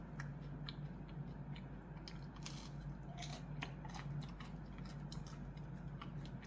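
Crisp, crunchy chewing of a breadstick, close up, with irregular crackling bites over a steady low background hum; no talking.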